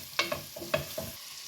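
A utensil clinks and scrapes against a pan in several quick strokes as buckwheat fries, with a soft sizzle of frying underneath.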